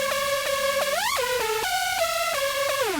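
Buzzy EDM synth lead stepping through a short riff with notes gliding upward in pitch bends, a sustained, steady-volume line lasting about three seconds with no talking.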